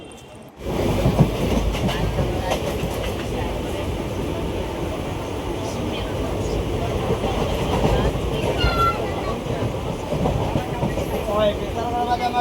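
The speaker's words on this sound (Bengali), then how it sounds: "ওয়েট করে তারপরেই কিন্তু ট্রেনটা চলে এসেছে" A train rumbles into Bethuadahari station with a loud, continuous roar and rhythmic clatter of wheels, occasional squeals rising above it, while people talk nearby.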